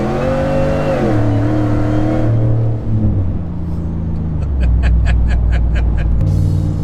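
A deep, loud Hellcat V8 in a 2019 Ram Rebel pickup revving and shifting, pitch stepping down through gears, then a burbling idle with rapid rhythmic clicking near the end.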